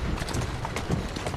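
Horse hooves clop along at a steady running pace in Assassin's Creed Syndicate, a continuous rhythmic patter mixed with street ambience at moderate loudness.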